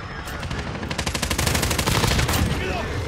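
Rapid automatic fire from a Kilo 141 assault rifle in a multiplayer shooter game, a loud sustained burst of gunfire rattling for a couple of seconds.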